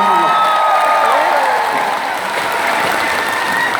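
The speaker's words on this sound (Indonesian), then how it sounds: "Iki sing tepuk tangan" A crowd at an Islamic religious lecture in Bojonegoro bursts into loud, continuous applause close by, with a voice faintly audible beneath the clapping.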